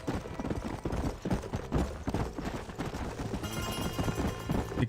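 A horse gallops in Red Dead Redemption, with rapid hoof clatter running under busy game sound and music throughout, steady and moderately loud.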